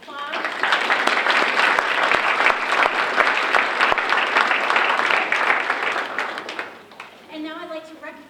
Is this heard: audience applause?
yes